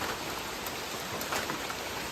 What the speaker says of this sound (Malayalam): ഇപ്പോഴേ മഴ ശക്തമായിട്ട് പെയ്യുകയാണ്.